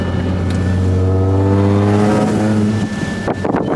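A supercharged Audi A6, recovered after flood damage, runs with a loud raspy exhaust drone that rises and then falls away before a brief revving burst near the end.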